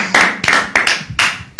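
A few hands clapping in a church congregation, six sharp close claps spaced irregularly, with no voices.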